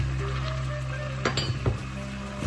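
Flour and melted butter are stirred together in a pan for a lasagna roux, a soft steady scraping with a few sharp utensil knocks against the pan near the middle and end.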